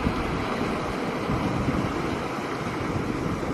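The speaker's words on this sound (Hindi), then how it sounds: "आप दिखाइए किस तरह से पानी यहाँ बह रहा है। एम्बैंकमेंट को क्रॉस कर चुका है और पूरा का पूरा पानी खेतों की तरफ जा रहा है।" Cyclone floodwater pouring over a breached river embankment and spreading into farm fields, a continuous roaring wash of water with some wind buffeting the microphone, steady and fairly near, no talking.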